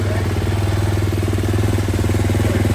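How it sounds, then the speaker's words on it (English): A motocross motorcycle engine runs at a steady idle, a loud close throbbing pulse with a slight clattery edge and no clear revving. "they're firing up the motorcycle"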